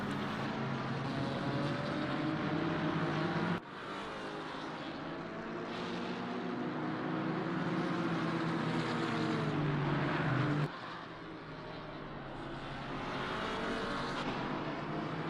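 GT4 race cars lapping the Nurburgring, a continuous engine drone that rises and falls in pitch as cars pass, with sharp shifts at gear changes, steady and moderately distant.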